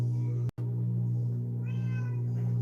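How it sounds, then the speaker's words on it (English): A house cat meows at a door, a short rising cry heard nearby, rising above a steady low hum. "Kitty's at my door."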